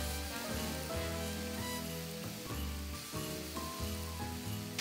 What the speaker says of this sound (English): It's important to get your pan really hot and put them in open side down to kind of caramelize